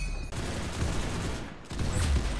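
Rapid bursts of gunfire in the Roblox game Arsenal crackle loudly and almost continuously, with a brief lull partway through before the shooting resumes.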